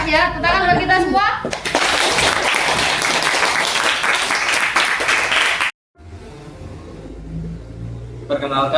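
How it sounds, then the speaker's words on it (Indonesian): Audience applause fills a school gathering in Papua, dense steady clapping for about four seconds after some brief speech, then cutting to quiet background voices. "Tepuk tangan buat kita semua."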